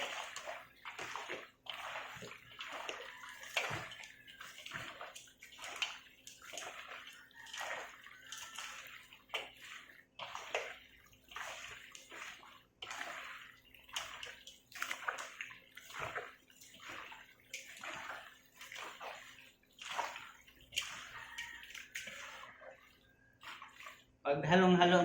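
Meat is stirred with water in a bowl, giving repeated wet sloshing and squelching strokes in a steady rhythm, fairly close and moderately quiet, while a person talks intermittently over it.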